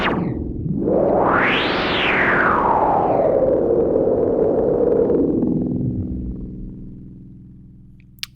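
A Compusynth synthesizer tone patched through reverb sweeps sharply upward, then glides slowly down and fades into a long echoing tail, loud and alone.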